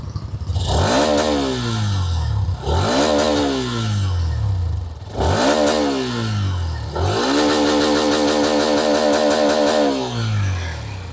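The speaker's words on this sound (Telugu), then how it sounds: "ఒకసారి ఎగ్జాస్ట్ సౌండ్ వినండి" A Hero Xtreme 125R motorcycle exhaust revs loudly several times, each throttle blip rising and falling, then a longer sustained rev near the end, with no talking.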